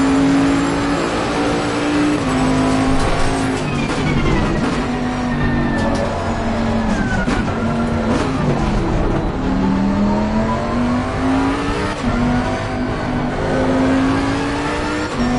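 A Ferrari race car in the FIA Motorsports Games 2022 racing video game revs loudly and continuously, its engine pitch rising and dropping through gear shifts with faint tire and road noise underneath.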